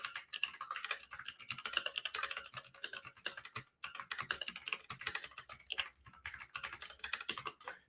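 Quiet, continuous typing on a computer keyboard, quick irregular keystrokes with a brief pause midway, close and alone.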